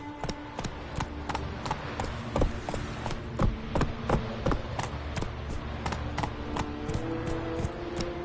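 Roach, a horse in The Witcher 3 video game, galloping: steady rhythmic hoofbeats, close and clear, with a continuous background of game ambience and no talking.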